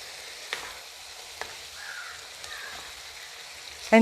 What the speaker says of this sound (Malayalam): നമ്മുടെ കരളും വെള്ളവും എല്ലാം കൂടെ അങ്ങ് കൊടുത്തേക്കാം നന്നായിട്ടൊന്ന് മിക്സ് ചെയ്യുക